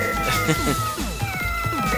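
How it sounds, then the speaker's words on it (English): A cat character meows repeatedly in the 1993 Sega Mega CD game Keio Flying Squadron, a run of short, bright mewing calls looping over steady game music. "Why is Dr. Pone meowing?"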